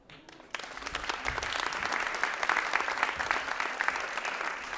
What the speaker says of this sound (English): With a warm round of applause